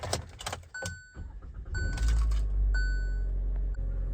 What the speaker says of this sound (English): Sliding into the vehicle to start it, just put the keys in.